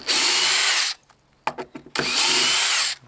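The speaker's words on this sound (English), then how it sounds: "I'm taking out these screws" A power drill backing screws out of a painted board, two loud close whirring bursts with scraping and clicking handling noises between them.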